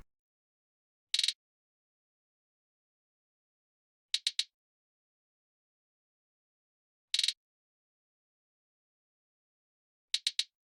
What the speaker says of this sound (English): Also with the drums, we have these pitched hi-hats